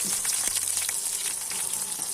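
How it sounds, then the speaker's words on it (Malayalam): Green chilies dropped into hot oil with popped mustard seeds sizzle and crackle steadily, a close, continuous frying hiss for a shellfish-free Shatavari pickle base, with no talking. "ഇത് കടുക് പൊട്ടിയിട്ടുണ്ട് അപ്പോൾ ഇനി നമുക്ക് അടുത്ത സാധനം നമുക്ക് ഇതിനകത്ത് ചേർത്ത് കൊടുക്കാം പച്ചമുളകാണ് നമ്മുടെ അടുത്ത സാധനം"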